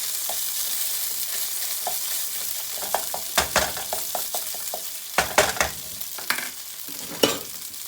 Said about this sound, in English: Take my whisk and kind of just mush it up.